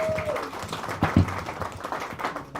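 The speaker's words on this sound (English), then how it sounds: "So another round of applause." Audience at a Nogales Bicycle Classic press conference gives a short round of applause, scattered claps of moderate loudness mixed with room noise and a brief murmur of voices.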